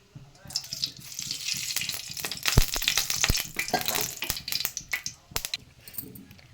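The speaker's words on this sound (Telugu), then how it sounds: "ఇలా బాండిల్ వేడెక్కాక అందులో ఆయిల్ వేయాలి" Oil heats and sizzles in a hot pan on a stove, with crackling, spattering pops that rise and fall, and some spoken voice alongside.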